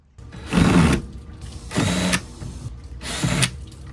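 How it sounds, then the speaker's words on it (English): Screws holding a fridge cubby in place inside a van are driven out with a power tool in three separate whirring bursts, each under a second, close and fairly loud, with short quiet gaps between them. "I'm gonna just unscrew those and see what happens."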